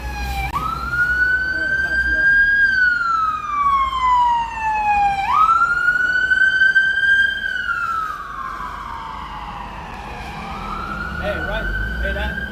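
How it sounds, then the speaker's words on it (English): A loud emergency siren wails up and down in long sweeping cycles, close by, with road noise underneath and a voice now and then. "The siren's going, man."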